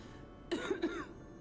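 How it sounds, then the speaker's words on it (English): A character in the video game Lies of P gives a short, close cough of two or three quick bursts, with quiet surroundings before and after. "Your character model started coughing"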